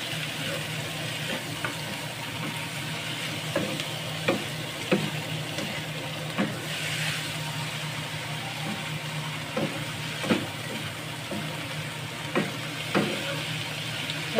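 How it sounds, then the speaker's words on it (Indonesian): Garlic and chive flowers with squid stir-fry in a hot pan, giving a steady loud sizzle with sharp spatula scrapes and clinks at irregular intervals. "Kita tumis-tumis. Terus diaduk dulu ya"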